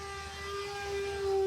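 A radio-controlled F-14 model airplane loops and rolls overhead, its small engine giving a steady, fairly faint whine with a sustained tone that grows a little louder near the end.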